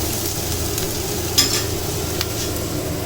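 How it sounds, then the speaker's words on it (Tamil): Beetroot and cabbage stirred into frying onion in a pan, giving a steady loud sizzle with a couple of soft scraping stirs, close and without voices. "இப்போ இந்த வெங்காயம் பொறிஞ்சிருக்கு நம்ம வந்து இந்த இந்த காயும் சேர்த்துக்குவோம்"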